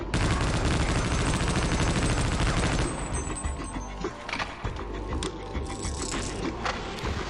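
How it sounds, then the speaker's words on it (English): Rapid, sustained M16 rifle bursts in Half-Life: Opposing Force rattle loudly for about three seconds, then give way to quieter scattered shots and clatter. "now these guys are like dying from like a short series from an M16"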